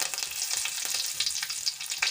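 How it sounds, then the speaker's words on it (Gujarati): Star anise, dried red chillies, a cinnamon stick, bay leaves and curry leaves sizzle steadily in hot oil, a bright continuous crackle with sharp pops, close and fairly quiet, no voices. "બે બાદિયા બે સૂકા મરચાં એક તજનો કટકો અને બે તમલપત્રના પાંદડા ઉમેરીશું અને મીઠો લીમડો ઉમેરશું"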